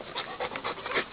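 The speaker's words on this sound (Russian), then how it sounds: "А Дэнни все гавкает" An Alabai dog chained in a yard, giving a run of rough, panting barks and huffs in quick irregular bursts, fairly close, with no talk.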